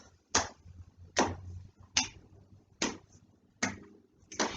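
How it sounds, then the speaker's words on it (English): Slaps and claps keep the beat in a children's yoga hello-and-namaste song, six crisp, close hand hits spaced evenly about a second apart with quiet gaps between them. "Slap, clap."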